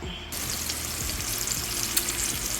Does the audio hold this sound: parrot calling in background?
no